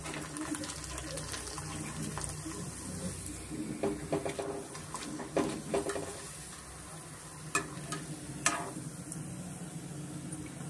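Crispy homemade rice sandige, papad-like rice crisps, fry in hot oil with a moderate, bubbling sizzle, punctuated by scattered sharp clinks and scrapes of a utensil against the pan.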